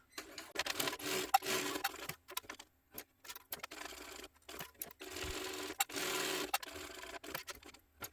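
A sewing machine stitches down the sides of a sling crossbody bag in short, quiet bursts with brief pauses between runs, including back stitching at the start and end.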